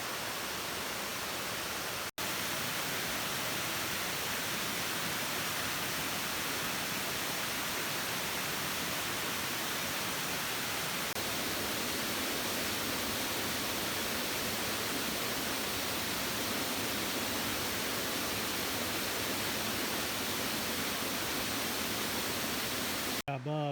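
Chasteen Creek in the Great Smoky Mountains rushes with a constant, loud broadband roar of flowing water, unbroken apart from a brief dropout near the start.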